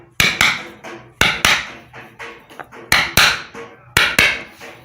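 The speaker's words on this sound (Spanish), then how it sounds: "voy a hacer que se baje un poquito más con un martillo y la madera" A hammer strikes a wooden block to press down parts of a burnt-out water pump under repair, giving sharp, loud knocks in uneven pairs and clusters with short pauses, and no talking.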